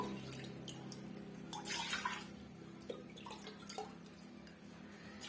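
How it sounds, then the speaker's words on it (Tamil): Water splashes and trickles into a metal pressure cooker nearby, uneven pouring with bursts of louder gushing and scattered drips. "இப்போ அஞ்சு கப் அளவுக்கு நம்ம தண்ணி சேர்த்துட்டோம்"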